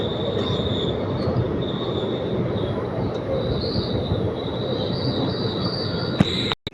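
Intercity Express train slowing into Coimbatore Junction: a loud, steady roar of wheels on rail with a sustained high brake squeal riding on top, ending in a few sharp knocks.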